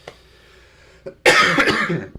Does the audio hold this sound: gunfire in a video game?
no